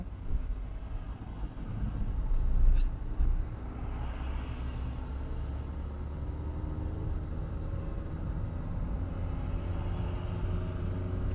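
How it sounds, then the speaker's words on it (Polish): Steady low rumble of a car engine idling and running during a driving lesson, a continuous near drone with a slightly louder swell early on, no talk. "Słyszy Pan silnik?"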